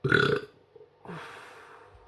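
A loud, close burp after drinking La Trappe bock beer, followed by a softer breathy exhale.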